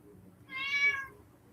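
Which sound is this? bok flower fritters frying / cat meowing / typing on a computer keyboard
cat meowing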